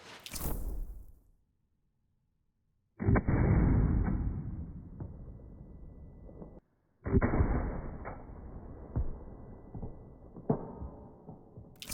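A sharp Heckler & Koch MR308 rifle gunshot with a long rolling reverberation, followed after a short pause by another loud shot and a lingering tail with smaller cracks.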